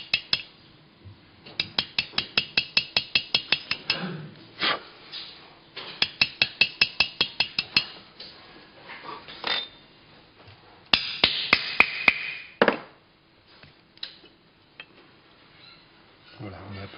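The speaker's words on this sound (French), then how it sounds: "Je prends mon burin rond. Et là, on va commencer à creuser le métal en enlevant des copeaux." A round chisel is hammered into metal to carve a Gaulish coin die, giving bursts of rapid, sharp metallic taps in fast runs with pauses, close and ringing, while someone speaks between strikes.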